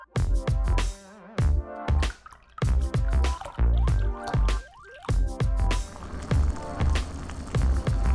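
Glucose syrup, sugar and water being mixed into a candy syrup: sticky drips, squelches and splashes come close and loud in irregular bursts with short pauses between them.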